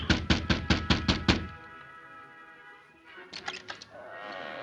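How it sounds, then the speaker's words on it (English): Knocks on a wooden door in an old-time radio Western drama: a quick run of about seven sharp, loud raps, then a pause and a second, fainter flurry of knocks. "he knocked on the door with his left"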